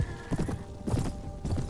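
A horse gallops in the video game Mount & Blade Warband, rhythmic hoofbeats in three quick clusters, close and fairly loud, with a whinny mixed in.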